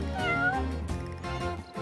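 A kitten meows in the game Princess Connect Re:Dive, with a few close, high, rising-and-falling mews over soft background music.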